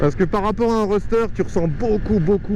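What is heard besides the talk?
None of the usual background noises is heard.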